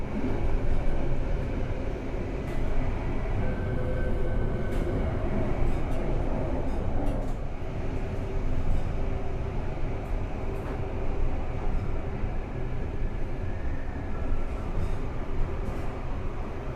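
An Argo Wilis passenger train departs Bandung station, giving a steady, continuous rumble with rattling and clacking that stays at an even loudness throughout.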